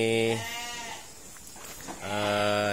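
A ram being assessed as a breeding sire on a sheep farm gives two loud, close, drawn-out bleats, one at the start and one near the end, with a quieter gap between them.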